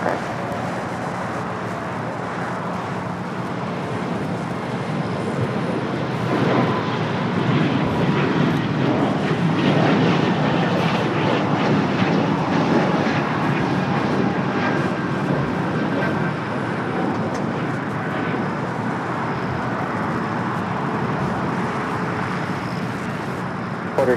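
An airliner takes off from runway 25 right at LAX, a broad roaring jet rumble that swells toward the middle and then holds at a distance, heard alone without talk.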